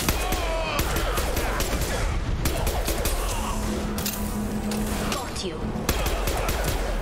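Gunfire rattles in Mass Effect 2 as shots are aimed at a loose fuel tank, a dense continuous barrage with a person talking briefly over it.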